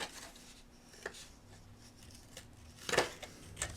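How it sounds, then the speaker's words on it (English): Scissors snipping the corners of paper card flaps to round them, a few faint soft cuts spread out, with one louder crisp snip near the end and no talk. "now I'm just going to take my scissors and round my corners of the flaps I'll be folding in"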